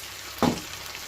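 Chinese-style beef burgers sizzle in a frying pan, a sudden burst of hissing as they hit the hot surface, then a softer, steady crackle fading under the background.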